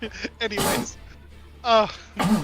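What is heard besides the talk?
sneeze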